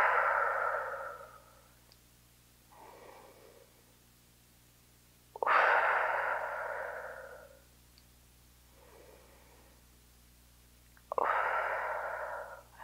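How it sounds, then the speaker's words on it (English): A person holding a stretch breathes audibly and close, with long airy exhales spaced several seconds apart and softer inhales between them over a low steady hum. "And then just hold here and breathe."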